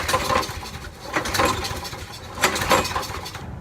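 A broken lawnmower engine is pull-started repeatedly in a garage and fails to catch, giving three rasping cord pulls with mechanical clatter that never settle into running.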